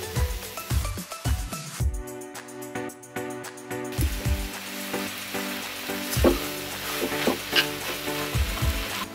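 Three onions and three tomatoes fry and get stirred in a pan for a Marathi paneer masala, giving a continuous close sizzle with repeated scraping stirs and clanks of the utensil.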